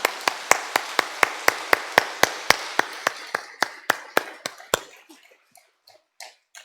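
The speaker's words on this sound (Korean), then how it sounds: "영광과 감사의 박수 한번 올려드리면 좋겠습니다" A Korean church congregation claps in unison, sharp evenly spaced beats at a brisk steady rhythm for several seconds before the clapping loosens, grows ragged and dies away into a few stray claps.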